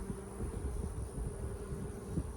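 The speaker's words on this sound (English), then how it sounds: "I can see one bee down there flapping its wings." Honey bees in an open beehive give off a steady, close drone of wings, with occasional louder passes as single bees fly near. No one speaks.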